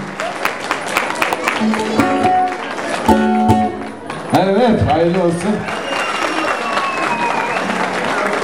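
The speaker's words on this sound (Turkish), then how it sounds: "Alkışlar güçlü olsun." Wedding guests at a Turkish celebration clap and cheer in a dense, steady burst of applause, with a voice speaking over the crowd throughout.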